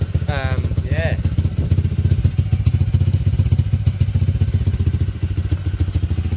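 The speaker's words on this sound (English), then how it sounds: "It's a healthy engine." An engine idles steadily on a cheap $250 Chinese pit bike, with a loud, close, even putter and a rapid mechanical rattle that carry on without a break. A brief voice is heard near the start.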